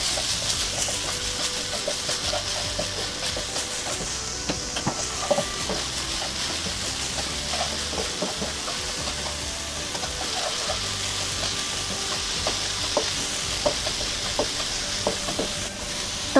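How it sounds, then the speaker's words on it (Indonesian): Garlic and shallots sautéing in a pool of leftover frying oil, a steady close sizzle with scattered stirring clinks and scrapes throughout, no talking. "Tumis bawang putih,"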